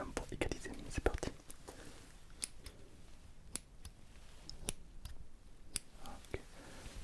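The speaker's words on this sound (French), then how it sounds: "Je vais devoir utiliser les deux ciseaux en même temps pour égaliser." Two pairs of scissors snip hair together during a haircut, giving sharp, close, intermittent clicks and snips amid soft whispering.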